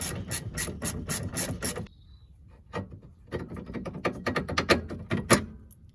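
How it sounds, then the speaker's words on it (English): A ratchet clicks rapidly as it undoes a suspension arm bolt on a Ford Focus hatchback, two close bursts of quick ratcheting separated by a brief pause, loud and alone. "Now I can use a ratchet, now it's looser."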